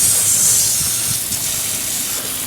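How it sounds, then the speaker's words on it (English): Garden hose spray rinsing cleaner off car wheels, a steady loud hiss of water lasting the whole moment with a slight fade toward the end, no talking. "Let's hose that off."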